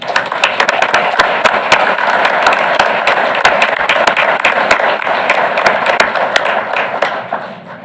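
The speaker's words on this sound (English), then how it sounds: "We give them all a round of applause." Applause fills a school board meeting room, a steady wash of many hands clapping with some sharp individual claps standing out, continuing for several seconds.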